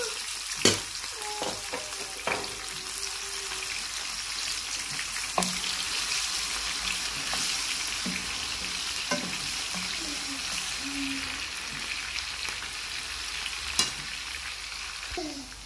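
Blended onion, garlic and ginger fry in a pot with a continuous close sizzle, broken by scraping stirs and a few sharp knocks of the spoon against the pot.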